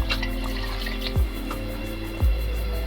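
Water being poured into a pot of aloo gosht during cooking, a steady trickling stream with a couple of brief splashes, set over a constant low hum from the stove or kitchen.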